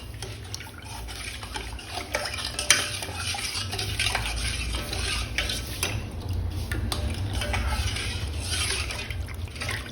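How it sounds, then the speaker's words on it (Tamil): Black urad dal porridge being stirred in a pot on the stove, a continuous close scraping and swishing of a spoon through thick liquid, with light clinks of utensil against the pan and no speech. "அடுப்பில் வச்சு கலரிட்டே இருங்க."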